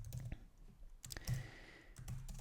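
Computer keyboard keys tapped in short quick bursts, with clusters of clicks separated by brief pauses, close and fairly quiet.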